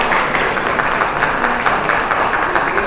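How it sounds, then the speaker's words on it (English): An audience at a business meet in Dubai applauds a company chairman. The clapping is loud, close and tightly packed, and it keeps going without a break and without voices over it. "Let's give him a big round of applause."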